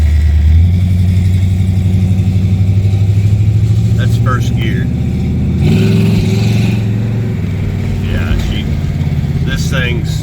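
A 1972 Oldsmobile Cutlass engine pulls away hard in first gear, a loud, close, steady low roar and rumble that rises briefly as it accelerates, with a person talking over it throughout.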